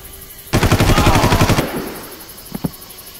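Rapid automatic gunfire from the video game Far Cry rattles loudly in one burst of about a second, then fades, followed by two brief sharp reports.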